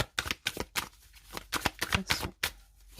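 Tarot cards are handled and laid over one another on a table, giving a quick run of crisp, close papery snaps and riffles in irregular bursts.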